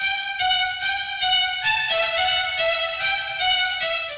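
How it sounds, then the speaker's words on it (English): Heavily processed spiccato violin in a dark synthwave style playing quick, bouncing short notes in a steady pulsing rhythm, bright and shimmering with effects, no talking over it. "And violin with a lot of processing sounds like this."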